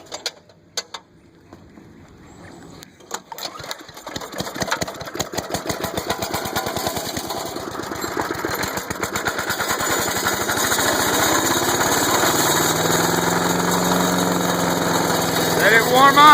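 A woodchipper's engine is pulled over and catches, first a few isolated knocks, then a rapid chugging that speeds up and settles into a steady, loud idle that carries on to the end.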